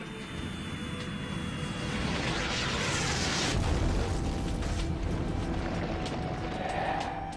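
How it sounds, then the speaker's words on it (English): Comets and asteroids pounding the early Earth during the heavy bombardment, rendered as a heavy, continuous explosive roar that swells midway and rolls on loudly for several seconds with no voices. "For about the first 600 million years, comets and asteroids pounded our planet."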